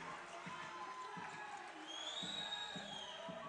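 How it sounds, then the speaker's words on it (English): A basketball game crowd cheers faintly in an arena, with a ball bouncing rhythmically on the court beneath the noise. "Crowd's into it."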